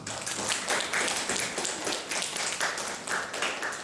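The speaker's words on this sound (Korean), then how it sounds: "우리 옥재에게 박수 하겠습니다" A church congregation applauds in a continuous burst of dense, fairly loud clapping that carries on evenly with no voices over it.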